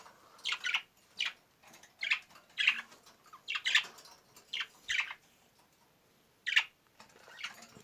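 A small budgerigar squawks in sharp, repeated bursts at close range, angrily flapping, with a few soft rustles of fluttering wings between the calls.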